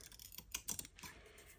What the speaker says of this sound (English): I'm going to do a real naughty thing with my sewing scissors and cut while there's glue